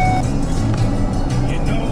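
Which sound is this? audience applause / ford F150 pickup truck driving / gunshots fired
ford F150 pickup truck driving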